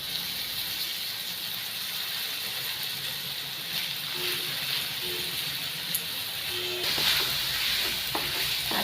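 Raw papaya pieces are stirred into hot caramel in a pan over a flame, giving a continuous sizzle with scraping, ratcheting stir strokes and a few soft clinks, close and without speech.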